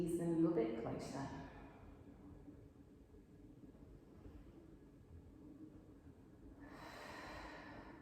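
Slow breathing in and out during a guided posture stretch: a soft airy breath near the start and another toward the end, separated by a quiet hiss-filled pause.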